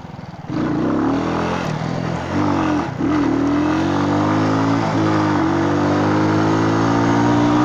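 A motorcycle engine fires up and rides off, a loud close steady drone that climbs in pitch through the gears with brief dips at the shifts and no talk.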